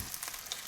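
Aldi sausages, including reduced fat, pork and leek and bratwurst, frying in a pan with a soft, steady sizzle and scattered faint crackles and pops, close and quiet with no talk.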